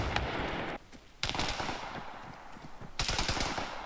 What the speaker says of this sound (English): Ooh, I'm taking fire from somewhere.